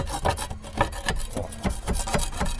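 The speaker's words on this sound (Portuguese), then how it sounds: "Eu vou raspar tudo bonitinho aqui, ó." Old tar pitch is scraped off a roof in repeated rasping strokes, close and rhythmic, each scrape a short coarse burst with no talk over it.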